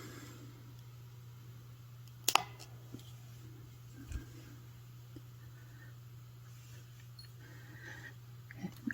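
One crisp snip of wire cutters trimming excess jewelry wire on a chandelier pendant necklace, a short close click over a quiet, steady background hum, with a few faint ticks afterward.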